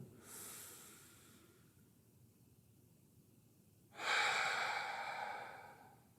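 Two slow, deep breaths close by: a soft drawn-in breath, a pause, then a louder, longer breath that fades out.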